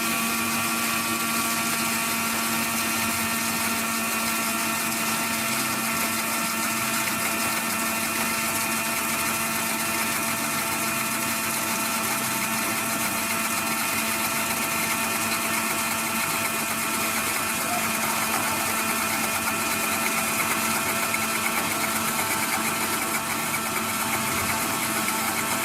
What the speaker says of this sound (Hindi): मुझे कुछ सेकंड तक इस वीडियो में ब्लेंडर का शोर होगा